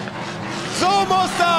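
At the Nürburgring 24h race, a race car engine rises in pitch with a loud, close rising whine, heard under excited commentary.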